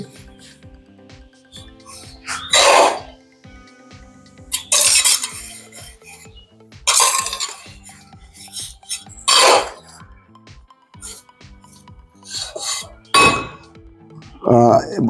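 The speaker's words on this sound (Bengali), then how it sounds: "যখন বালি দিচ্ছি এখানে আস্তে আস্তে এইভাবে বালিটা দিচ্ছি" Sand is spread for a floor tile bed, with a tool scraping and tossing it in loud, gritty bursts every few seconds, separated by faint clinks and quieter handling.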